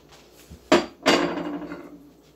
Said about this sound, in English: we're going to throw him right into the heated pan